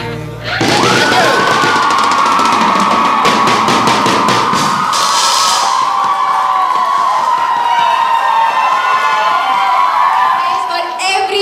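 A large audience at a college day event cheers, whoops and applauds loudly, starting abruptly and holding a sustained roar with shouting voices throughout, fading slightly near the end.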